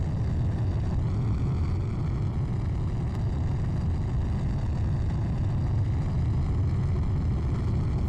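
Aircraft in the Plane Crazy video game: a loud, steady engine roar with a broad rushing drone that holds constant throughout, with no breaks.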